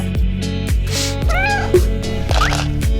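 A kitten meowing several times, close and clear, over a rhythmic music backing with no talk.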